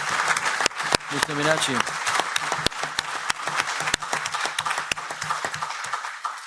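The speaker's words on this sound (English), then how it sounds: "that warm round of applause actually means that we celebrate that you made it" A warm round of applause from the audience at a World Refugee Day discussion: dense, sustained clapping throughout, with someone speaking briefly over it.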